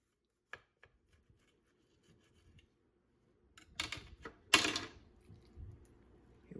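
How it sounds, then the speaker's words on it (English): A knife cuts into a baked Philly cheesesteak roll, a few faint taps and then a louder burst of crisp crunching and slicing near the end, with no talk. "I'm gonna go ahead and cut one of these open for y'all."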